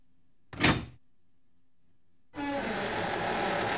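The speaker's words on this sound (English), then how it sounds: "You've unlocked the door." In the video game Resident Evil: Code Veronica, a short clunk of a door unlocking comes first, then after a pause a door swings open with a sustained heavy grinding rumble, with no talk over it.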